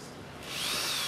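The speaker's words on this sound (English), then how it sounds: "I put this in a drill." A power drill spins a bent wire coat hanger, its whine rising in pitch and loudness halfway through and then holding steady, close and alone.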